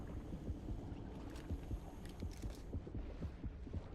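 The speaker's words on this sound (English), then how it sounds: "I can kind of use the heartbeat to track them down." A steady, muffled heartbeat thumps at a regular rhythm in the horror video game Depth, low and throbbing under a faint hum of underwater ambience.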